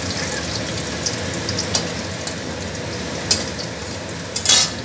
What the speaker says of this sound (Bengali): আলু ভাজাটা বসিয়ে দিচ্ছি, আলু ভাজাটা ভাজছি।